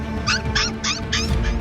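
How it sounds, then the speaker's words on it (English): Abandoned puppy crying and screaming behind an animal market, several short high whimpering cries in quick succession over steady background noise. "they heard a puppy screaming"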